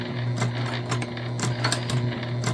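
Sewing machine running a short back stitch on a shoulder bag, a quiet close mechanical hum with a steady rhythm of needle clicks in quick bursts.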